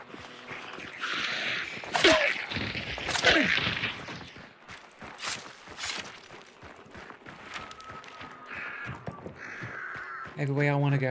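Crow caws ring out in a zombie survival video game, several harsh calls in bursts over a steady game soundscape, with footsteps and other effects mixed in.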